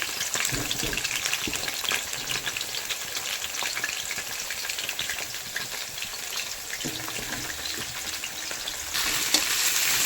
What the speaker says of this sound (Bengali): এই ফুলকপিটাকে ভেজে নেবো তেলে।